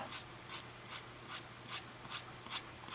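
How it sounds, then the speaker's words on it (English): A nail file is drawn along the edge of a nail wrap in steady, rhythmic rasping strokes, about two or three per second, close and fairly soft. "So I'm just filing at it's almost 90, it's kind of 60 degrees"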